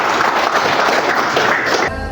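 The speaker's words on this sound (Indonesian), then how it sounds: "Tepuk tangan." Schoolchildren in a classroom give a round of applause, a dense, even patter of many hands clapping at once, close and fairly loud, cut off abruptly near the end.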